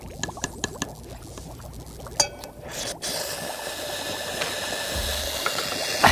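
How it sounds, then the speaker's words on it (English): A small piece of sodium reacts in water, producing a steady hissing, fizzing wash with a few sharp crackles and pops near the start, moderately loud and close, with no speech. "watch what happens when we put just a small piece of sodium in water"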